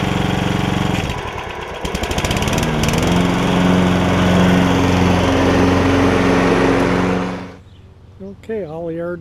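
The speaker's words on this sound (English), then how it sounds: "that'll be the first start of the year for this too" A small gasoline snowblower engine, just after a carburetor overhaul and its first start of the year, runs loud and steady for about seven seconds, then cuts off, followed by a short burst of a voice.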